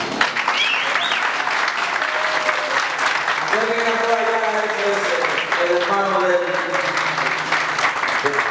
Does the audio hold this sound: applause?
yes